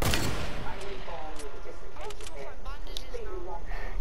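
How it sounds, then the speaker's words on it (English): Gunshots in the video game Fortnite during a build battle, a few sharp loud cracks over continuous game noise and background sound. "No, no, I'm gonna shoot you."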